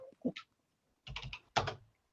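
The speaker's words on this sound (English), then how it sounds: "What are you typing?" Typing on a computer keyboard in short bursts of key clatter, a couple of quick taps followed by two denser clusters of keystrokes, close and fairly quiet, with no talk over it.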